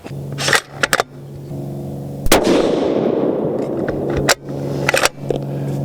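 A Terminus Kratos rifle in 7mm PRC fires Berger 175-grain Elite Hunter rounds at a range, sharp loud cracks with a long rumbling echo after one main blast and several quicker reports close together.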